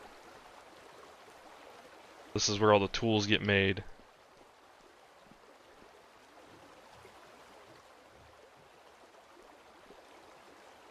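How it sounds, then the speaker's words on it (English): Water wheels churn flowing water inside a village building in the game Vintage Story, a faint, steady rushing wash that continues throughout while someone briefly speaks near the start. "It's very loud in here with the water."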